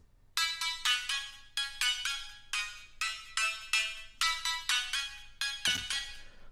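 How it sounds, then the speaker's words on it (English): A high bass layer from a Serum synth preset for future house plays alone as bright, buzzy rhythmic stabs, each pulse swelling and cutting off in a repeating pattern with almost no low end. "Right, so that's the mid bass, and then the high bass."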